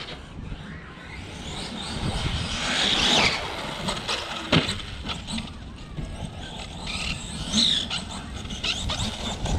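An HSP 1/8 scale RC truggy running on 6S power drives about, its high-pitched electric motor whine rising and falling with buzzing passes and scuffs, fairly close and continuous.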